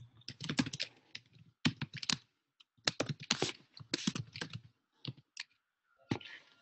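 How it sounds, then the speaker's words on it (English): Keyboard typing in irregular bursts of quick clicks, fairly faint and close, with short pauses between flurries. "I can hear someone typing as well"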